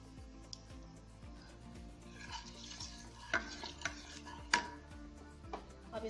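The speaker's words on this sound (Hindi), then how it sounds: "जीरा, इलायची और दालचीनी डाल देते हैं।" Cumin seeds, cardamom and cinnamon dropped into hot oil for a raw banana kofta curry, sizzling softly while a spoon scrapes and taps the pan, with a few sharper clicks, fairly quiet and close.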